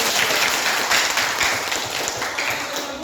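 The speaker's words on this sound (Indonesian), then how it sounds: "berikan tepuk tangan" A crowd applauds steadily, with dense overlapping clapping that holds at a fairly loud level throughout.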